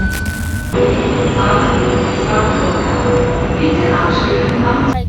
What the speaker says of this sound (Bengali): এটা যে দুইতলা ট্রেন